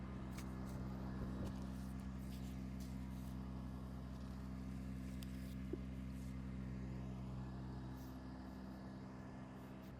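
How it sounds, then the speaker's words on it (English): A septic service truck pumps out a residential septic tank through open hatches, its engine and vacuum pump producing a steady, loud low drone that runs unbroken for the whole stretch. "So now that the truck is pumping down the levels"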